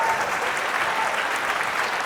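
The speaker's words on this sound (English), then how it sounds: "Give that girl a round of applause." An audience at a comedy show breaks into steady, dense applause, a full wash of clapping from a crowd that holds evenly for a couple of seconds without any talking.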